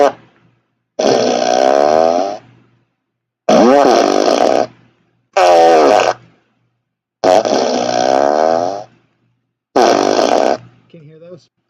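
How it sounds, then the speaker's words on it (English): A run of five long, loud farts, each a couple of seconds, spaced by short silences and recorded close to the microphone, with a brief squeaky sound at the end. "as long as the mic picks up my farts"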